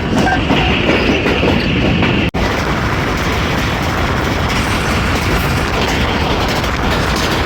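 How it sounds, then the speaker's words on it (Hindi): The Hazara Express passenger train rumbles steadily over an arch bridge, a loud continuous rolling roar with clattering wheels, close and unbroken apart from one sharp momentary dropout. "लाइन आर्चेस ब्रिज से गुजर रही है ट्रेन"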